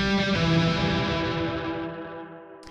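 A guitar run through the Guitar Rig effects plugin rings out, distorted and washed with chorus and echo, a single chord decaying slowly before a faint click.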